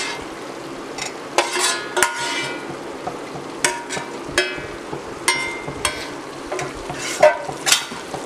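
Cooked prawns stirred into a pan of creamy pasta, giving soft scraping and clinking spoon-on-pan knocks at irregular intervals over a quiet background hiss, with no talking.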